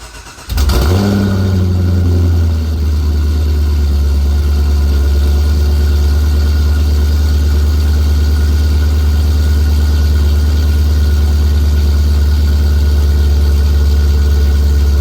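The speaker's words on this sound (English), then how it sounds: "we can now fire up the car" A Chevrolet C6 Corvette V8 cranks and fires after an oil change, catching with a sharp burst and then settling into a loud, steady, deep idle that holds to the end.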